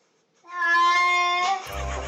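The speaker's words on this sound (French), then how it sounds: "Meilleur chat qui en fait des tonnes au moment de prendre son bain." A cat lets out one long, loud, drawn-out meow of protest while being given a bath, the cry rising and holding before breaking off into splashing water noise at the end.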